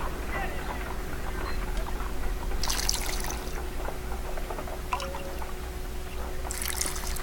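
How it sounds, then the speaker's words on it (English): Liquid poured from a bottle into a test tube in a Sherlock Holmes video game: a soft, brief trickle over a steady low hum and quiet background music. "Let us pour liquid from the bottle into a test tube"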